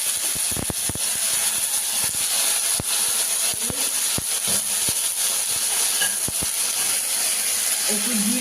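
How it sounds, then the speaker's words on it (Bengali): Ginger frying in a pan over a gas stove while a chhanar dalna (paneer curry) is being prepared, giving a steady, close sizzling hiss throughout with scattered small pops and crackles. "এটা কষবো, আদাটা একটু কষে নেব।"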